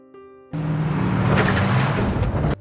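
A truck rumbles loudly and steadily in a film scene, with a broad engine roar starting abruptly after a brief tonal intro and holding at close range until a sudden cutoff.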